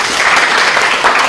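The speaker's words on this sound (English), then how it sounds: "Please welcome, sir, with a big round of claps." Audience applause welcoming a guest lecturer at an academic course session, a steady, dense clatter of many hands clapping throughout, fairly loud and without a break.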